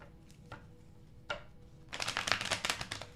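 Tarot cards shuffled by hand, a few soft isolated riffles at first, then a dense, fairly loud run of rapid papery flutters and slaps near the end.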